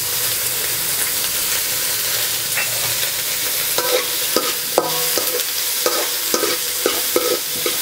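Onions and curry leaves sauté in a pan for a South Indian crane fry masala, with a steady close sizzle and hiss and scattered clinks and scrapes of stirring.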